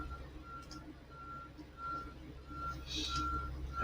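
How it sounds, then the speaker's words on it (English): A truck backing up somewhere outside sounds its reversing alarm, evenly spaced high beeps repeating about every half second, faint and distant over low traffic rumble. "you can hear a truck backing up here"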